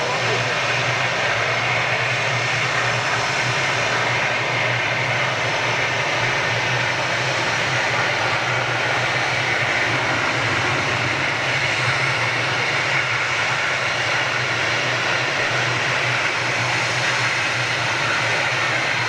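A United jet airliner with Rolls-Royce RB211 engines at Manchester Airport produces a continuous, even jet rumble with a steady low drone underneath, loud and unchanging throughout.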